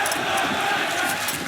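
A crowd roars steadily at an esports event, a Counter-Strike match on Inferno at ESL Challenger Melbourne 2022, a dense loud wash of cheering with no clear talk over it.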